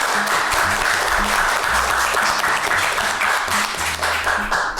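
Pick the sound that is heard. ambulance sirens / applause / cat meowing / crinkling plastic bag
applause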